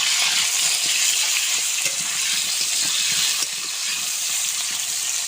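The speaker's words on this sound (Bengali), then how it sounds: "হলুদ গুঁড়ো, আলুটা সুন্দর করে ভেজে নেব।" Potatoes dusted with turmeric fry in hot oil in a pan, making a loud, steady, close hissing sizzle with no break.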